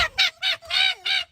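A fox gives a rapid series of five harsh, raspy barking screams, close and loud, with brief gaps between each call.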